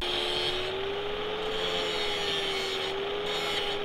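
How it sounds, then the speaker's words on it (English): A metal brace being cut for a turbo mount, giving a steady, close grinding drone with a constant pitch that runs evenly throughout with no talk. "I'm gonna cut a brace so the brace has some bracing real quick"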